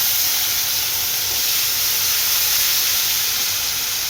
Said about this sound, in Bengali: সর্বপ্রথম আমি পেঁয়াজ রসুন আদা পেস্ট দিয়ে দিলাম